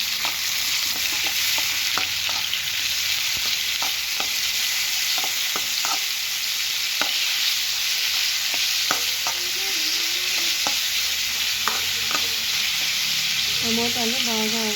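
Tomatoes and onions for a chicken curry sizzle steadily in a pan, with a constant frying hiss and scattered stirring clicks, near and alone, and a brief bit of voice near the end.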